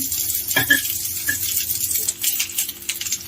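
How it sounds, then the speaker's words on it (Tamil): Small coconut pieces fry in ghee with a steady, close sizzling hiss, broken early by a few sharp metallic clinks of a utensil against the pan. "சின்ன சின்ன தேங்காய் பீஸு கட் பண்ணி வச்சுருக்கிறேன் அதை நம்ம நல்லா இப்போ வறுத்துக்கலாம்"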